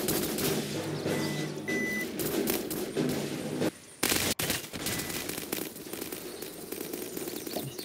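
Gunfire from the Roblox game Muffin Kombat rattles in dense, rapid bursts over a busy, loud game soundscape, with a brief dip and a few heavy thuds partway through.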